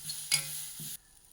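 Wheat grains roast in a hot pan with a soft, quiet sizzle and a couple of scraping stirs, brief crackly bursts broken by a sudden drop to near silence.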